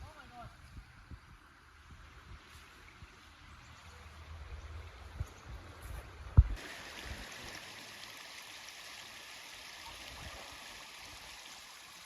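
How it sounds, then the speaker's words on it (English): A waterfall and flowing stream on a smallholding make a steady rushing wash, with a sharp knock partway through, after which the water roars brighter and louder; voices are heard over it. "Look at the waterfall."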